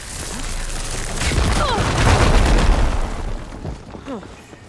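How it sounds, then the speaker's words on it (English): A heavy explosion in Horizon Forbidden West booms out loud, swelling into a broad roar with crackling debris before fading over a few seconds, with faint game sounds around it. "Explosion"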